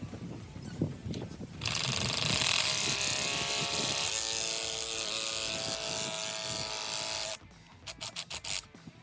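A gear puller being tightened on a Honda 300ex ATV, a steady mechanical whir running for several seconds, close and fairly loud, then stopping and giving way to a few short clicks and knocks.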